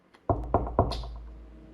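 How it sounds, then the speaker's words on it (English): Three firm, evenly spaced knocks land on a front door in an animated scene, close and resonant, followed by a faint high trailing tone. "there was a knock at the front door."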